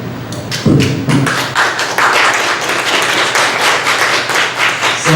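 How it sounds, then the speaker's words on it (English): Lecture panel audience applauding, steady close clapping from many hands filling the whole stretch, with a few louder thumps near the start. "So I'm going to ask you to extend that round of applause"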